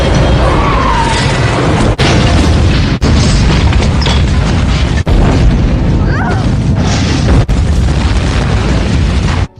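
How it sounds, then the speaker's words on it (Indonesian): Bazooka blast blowing up a house in a Hatchet III film scene, a loud continuous roaring explosion with rumbling debris and several sharp cuts, dense and close throughout. "Setelah berhasil meledakkan rumahnya psikopat Rawa Cubluk"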